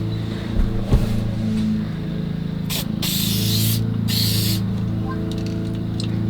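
Super 77 spray adhesive sprayed onto a wall in two short hissing bursts, close and loud over a low steady background hum, after a couple of soft knocks.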